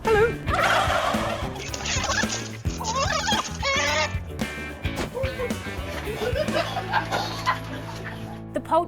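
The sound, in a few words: turkeys gobbling on a farm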